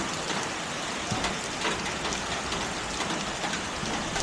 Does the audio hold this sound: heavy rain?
yes